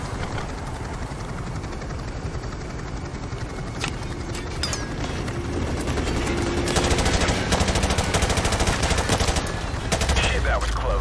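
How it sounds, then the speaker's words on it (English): Gunfire and RPG fire from the Call of Duty 4 Remastered campaign mission "Charlie Don't Surf", with steady machine-gun bursts over a droning helicopter rumble that builds louder toward the end. "Taking fire here."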